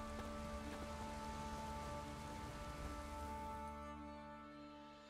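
In The Witcher 3: Wild Hunt, rain falls as a steady, even hiss beneath sustained tonal music and softens over the last second.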